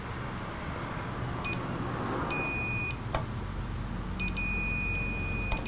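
A continuity tester on a monitor circuit board being repaired gives two steady electronic beeps, each held under a second, over a constant background hum, with a sharp click between them.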